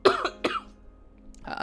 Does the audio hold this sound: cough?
yes